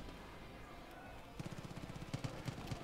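Rapid automatic gunfire in the Far Cry 5 video game, a burst of evenly spaced sharp shots starting midway and running to the end, moderately close over quiet ambient game sound.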